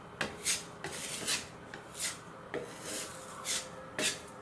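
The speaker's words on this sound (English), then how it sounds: "And now I will start filling the rest of the holes." Filler is spread into holes in bare pine wood with a putty knife, making a series of short, quiet, close scraping strokes in an uneven rhythm with brief pauses between them.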